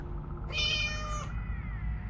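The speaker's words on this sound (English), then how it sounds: "was shocked to find that the shy cat was hiding under my bed and crying" A shy cat hiding under a bed cries out in a single drawn-out meow, loud and close, standing alone over a low room hum.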